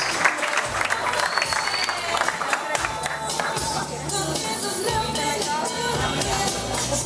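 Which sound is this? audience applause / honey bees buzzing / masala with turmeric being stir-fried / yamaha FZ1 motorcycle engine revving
audience applause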